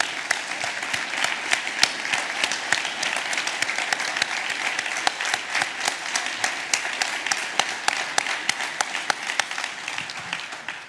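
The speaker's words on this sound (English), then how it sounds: "you're going to have to stand up and take the applause that you guys so well deserve" A room full of people at an animal society annual meeting claps for an honoree, sustained dense applause with sharp individual claps standing out, steady for around eleven seconds.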